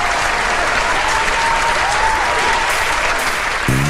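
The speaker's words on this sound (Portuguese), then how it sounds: "Uma salva de palmas." A TV show studio audience applauds to welcome a guest, dense continuous clapping that stays loud and steady throughout, with a faint musical tone briefly underneath.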